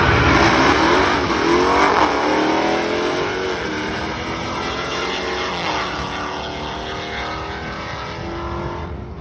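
A Hellcat-swapped Dodge Dakota truck runs at a race track, its engine a loud, steady roar that eases slightly, heard close and continuously for several seconds.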